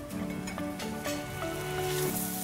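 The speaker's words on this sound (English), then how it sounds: "We gotta stir our sausages." Sausages sizzle and fry steadily in a pan, a dense continuous crackle at close range with a few soft clicks from stirring, no voices over it.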